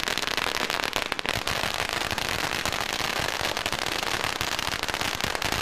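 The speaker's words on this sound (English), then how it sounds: "The fireworks are just part of the traditional Chinese New Year celebration at the Asia Times Square Marketplace." Dense firecrackers and fireworks crackle and pop without pause at a Chinese New Year celebration at an Asian marketplace in Grand Prairie, Texas, a loud, continuous barrage of rapid bangs throughout.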